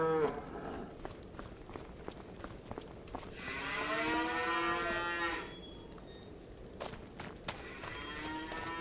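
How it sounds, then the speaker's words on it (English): Brown Swiss milk cows mooing in the video game Farming Simulator 25: one long, drawn-out moo in the middle, with a shorter low call later, over soft shuffling and footstep-like taps. "And then the milk cows are in here."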